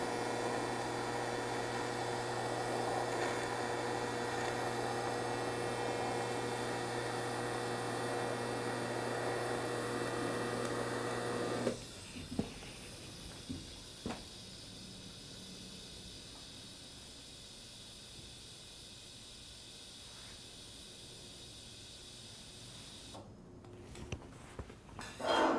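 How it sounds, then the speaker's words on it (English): Welding a square steel tubing corner with added filler metal, a steady hiss running for about twelve seconds before stopping abruptly, followed by quiet with a few faint clicks. "Add a lot of filler metal to fill up that radius gap"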